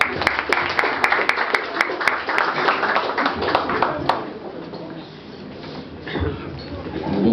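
Audience applause at a press conference in Rabat, lively close clapping with sharp individual claps that fades after about four seconds into quieter room sound and faint voices.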